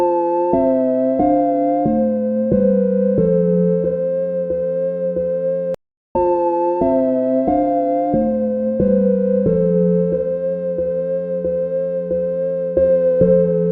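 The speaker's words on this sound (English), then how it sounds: "That sound you heard is from Flume's track Rushing Back, and he straight up just used a preset from Synplant." Synplant software synth preset from Flume's track Rushing Back, a smooth sine-like melodic sequence of stepping notes over a sustained low tone, repeated twice around a brief dropout, with no voices.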